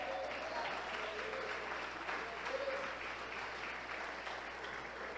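A church congregation applauds during a Portuguese-language service, sustained dense clapping from many hands that fills the room evenly and carries on throughout, with a voice faintly present under the applause.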